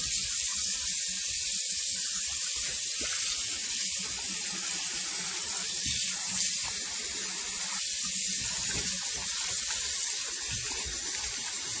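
Tap water runs steadily into a sink, rinsing pork bones for a spicy stew, a loud close continuous hiss and splash with faint sloshing shifts throughout.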